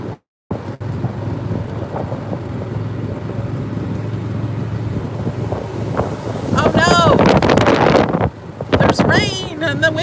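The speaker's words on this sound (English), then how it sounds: "the wind picked up, but I don't think it's gonna last long." Wind roars across the microphone during a golf cart ride in The Villages, Florida: a loud steady rumble throughout, rising and gusting harder toward the end, with brief voices surfacing in the last few seconds.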